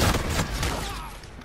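Rapid bursts of gunfire from an RVN rifle in a shooter video game, dense and loud throughout, a fast rattling stream of shots up close.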